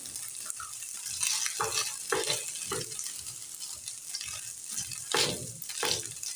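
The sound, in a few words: chicken frying in a pan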